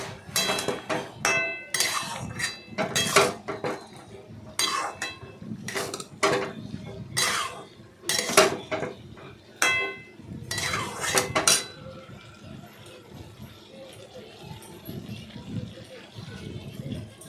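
A metal spoon stirs spiced soybean curry with chili, coriander and cumin powders in a pan, sharp clanks and scrapes against the pan in irregular bursts, thinning out toward the end, with a person speaking underneath.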